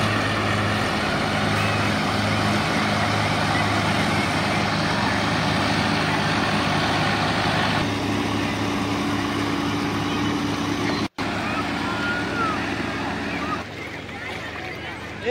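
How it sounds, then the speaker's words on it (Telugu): Loud, steady engine rumble with low droning tones, like heavy tractors rolling nearby, with wind noise over the microphone; the roar eases slightly near the end. "సో ఈ ట్రాక్టర్లు అయితే చూస్తూ ఉన్నాం మనం"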